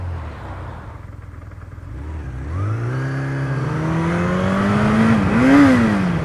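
A Kawasaki Zephyr 750 motorcycle's 750cc engine idles low, then revs up in a smooth rising whine that peaks, dips briefly and swells again, loud and close with no voices.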